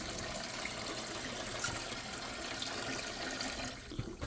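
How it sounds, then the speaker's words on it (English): Cold water runs through a Navien combi boiler during a flush, giving a steady, low, rushing hiss of flowing water that continues unbroken with no voices. "So right now, I'm just flushing with cold water"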